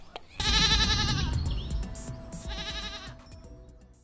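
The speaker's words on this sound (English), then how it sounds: "goat," Goat bleating in two long, wavering, nasal calls separated by a brief pause, close and loud with faint background noise.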